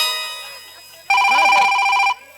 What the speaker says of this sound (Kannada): ಒಳಗೆ ರಿಂಗ್ ಆಗದೈತಿ ನಿಮ್ಮ ಸಂಬಂಧದ ರಿಂಗ್ ಆಗಿದ್ದ ಕೇಳವಾದ್ರಿ ನನಗೂ